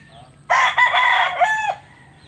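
A rooster crows once in a loud, close call lasting just over a second, at an online cockfight (sabong) in the Philippines, rising sharply then trailing off into quiet background.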